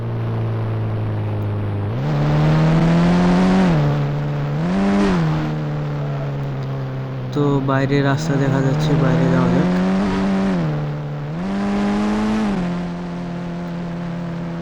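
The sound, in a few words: car engine revving and driving in Indian Bike Driving 3D video game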